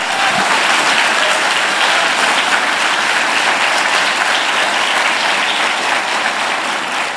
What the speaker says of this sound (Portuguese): aplauda Jesus, o seu santo nome nessa manhã, o mais forte que você puder